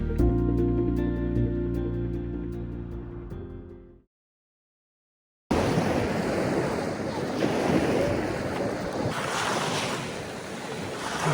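Strong wind buffets the microphone beside the water at Pangong Lake in Ladakh, a loud, steady broadband roar with surging gusts. A brief musical passage plays first, then a short gap of silence before the wind starts.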